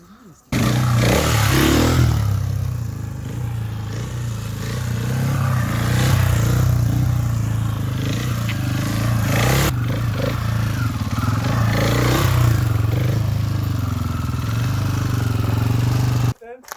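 Motorcycle engines rumble loud and close as riders set off, a steady roar running the whole time with people talking over it.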